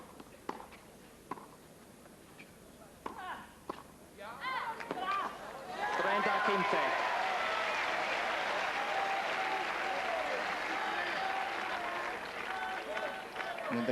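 A near-full, enthusiastic tennis crowd at a tight match erupts into loud, sustained applause and cheering after a few seconds of sparse thuds and quieter murmur, with a commentator's voice faintly underneath.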